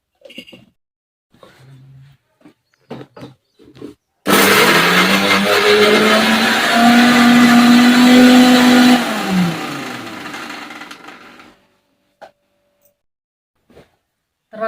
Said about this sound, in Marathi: लसूण जिरं आणि हिरवी मिरची छान असं बारीक करून घ्यायचं आहे